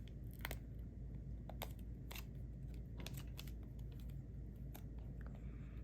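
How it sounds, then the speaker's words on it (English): Paper being folded back along a crease for an origami Santa, making crisp crinkles and sharp creasing snaps at irregular intervals over a steady low background hum. "now we unfold that and we fold it back on the crease"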